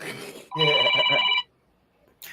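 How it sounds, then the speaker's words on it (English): A telephone rings once with an incoming call, a loud close electronic trill lasting just under a second, set between stretches of a voice talking. "I just got a weird phone call just now from this number"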